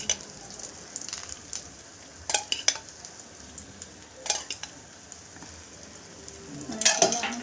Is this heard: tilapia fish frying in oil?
yes